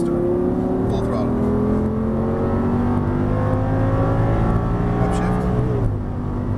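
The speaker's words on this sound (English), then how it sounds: "And then turn it. Then we're going to unwind and accelerate out, and then we're back to where we started. Full throttle." An Audi R8 accelerates at full throttle on a Las Vegas racetrack. The engine note rises loud and steady from inside the car, climbing in pitch before easing at the end.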